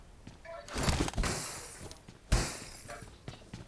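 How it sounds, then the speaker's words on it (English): Glass shattering in two loud bursts, a crash near the one-second mark and a second sharp break a little later, with scattered tinkling debris between them and no talk. "Destroy all the glass."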